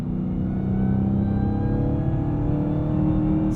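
A Dodge Challenger Hellcat Black Ghost's 807 hp supercharged engine holds a steady, loud rev with a high supercharger whine riding over the deep exhaust drone, heard from inside the car with no talking.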